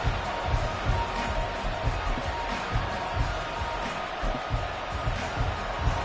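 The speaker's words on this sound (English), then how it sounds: "Crowd getting in it a bit already" A stadium crowd in a Madden football video game roars as a steady, dense wash of noise with small swells throughout, under faint talk.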